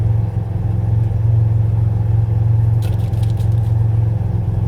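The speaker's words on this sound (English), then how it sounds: "The car just sounds much nicer with the exhaust just not making all the noise." A Ford Capri engine idles with its exhaust wrapped in bandage, a steady low rumble with a muffled, subdued tone that holds evenly throughout, with no talk.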